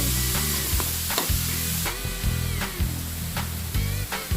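Beef stir-fried with holy basil for pad kaphrao in a hot pan, a steady loud sizzle broken by repeated metallic scrapes and clanks of the spatula in an irregular rhythm.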